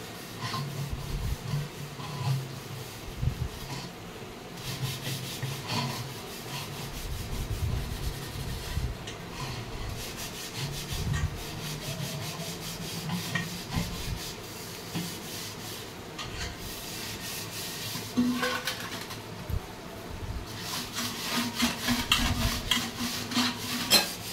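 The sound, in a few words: scrubbing copper pots clean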